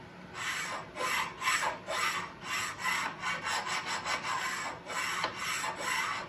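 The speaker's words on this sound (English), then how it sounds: "So first thing I need to do is make sure there's no burrs on here. So I'll stone this a little bit." A sharpening stone rubs burrs off the metal column of a Harbor Freight mini mill, making close, rhythmic back-and-forth scraping strokes in uneven bursts with short pauses, and no talking over them.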